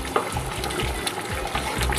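Cream cheese melts in a pan for beef morcon, giving a soft, steady sizzle with faint scraping stirs, fairly quiet and without speech.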